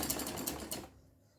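A sewing machine stitching the neckline of a kurti runs in a quick, rapid mechanical chatter for under a second, then stops and leaves a quiet tail.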